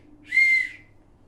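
A single bright, sustained whistle blast of about half a second, loud and clear against a quiet low background hum, blown as part of a whistling whale act.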